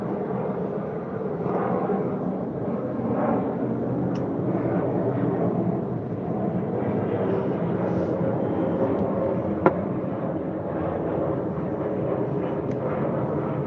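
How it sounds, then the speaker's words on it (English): Loud, steady engine roar from airplanes flying low overhead, a broad continuous rumble that swells and eases over about fourteen seconds with no break, heard outdoors. "Fuck those planes."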